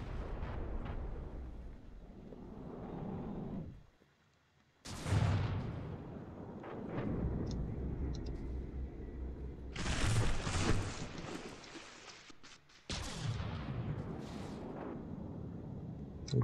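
Naval gunfire from a warship video game, the USS Solaire trading shells with the Charles Victor: heavy booming salvos roll out in several separated bursts, each a sharp blast trailing into rumbling decay, with quiet gaps between.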